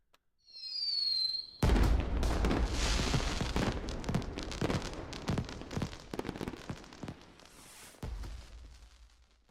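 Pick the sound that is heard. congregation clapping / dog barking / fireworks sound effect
fireworks sound effect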